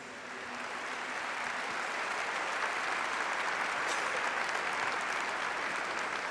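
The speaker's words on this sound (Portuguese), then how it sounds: "Vamos aplaudir a palavra de Deus." A church congregation breaks into sustained applause that swells quickly and stays steady and dense, heard from within the crowd, with no talking.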